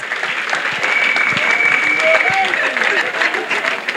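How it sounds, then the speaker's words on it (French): A church congregation at a national couples' retreat claps together, a loud, dense, steady wall of applause that lasts throughout, with some voices mixed into the crowd. "Clap offering to Jesus."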